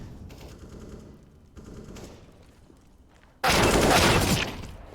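Rifle fire in a Counter-Strike match on Dust2, a few muffled rapid bursts followed by one loud, dense volley close by, with no voices.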